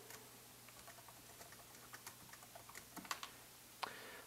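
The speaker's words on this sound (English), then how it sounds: "I'm going to type in the text of that link." Fingers typing text on a computer keyboard, a quick irregular patter of soft close key clicks building into a denser burst before a final firmer tap, with no voices.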